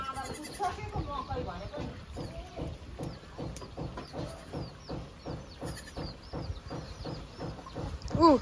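A young goat kid bleats repeatedly at close range, short wavering cries over a rhythmic background of other activity, with people talking nearby.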